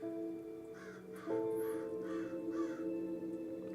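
A crow squawks in a steady run of about four harsh calls, caught indoors through a window over a constant electrical hum.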